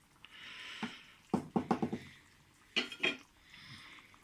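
A spoon scrapes and clinks against a cooking pot while stirring stuffed peppers, a few separate bursts of knocking strokes with quiet gaps between them.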